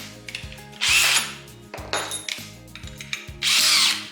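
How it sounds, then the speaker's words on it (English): A drill drives a pocket-hole bit into wood through a clamped jig in short bursts, the motor revving and grinding in three loud pulses with clunks and knocks between them. "So I've just added my bit to my drill, and you insert your bit into those holes"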